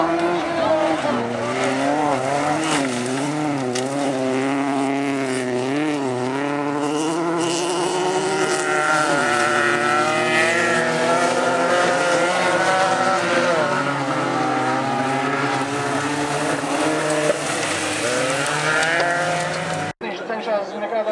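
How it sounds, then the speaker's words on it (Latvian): Folk race cars starting a race, with several engines revving and droning loudly in layered, shifting tones and occasional tire noise, under continuous commentary. "Un aiziet mums pirmais starts"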